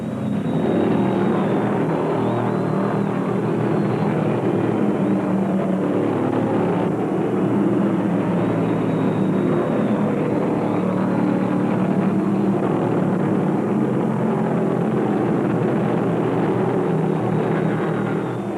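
1975 NASCAR Winston Cup stock car engines roar continuously at full throttle during the Carolina 500 race, a dense, steady mechanical drone with no pauses, loud and close throughout.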